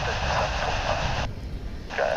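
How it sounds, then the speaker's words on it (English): A Spirit Airlines jet taking off from the east side of DFW airport, a steady loud engine roar heard from a distance, with voices talking over it. "There goes a Spirit Airlines flight 3161. That one's taken off from the east side of DFW on its way to Miami."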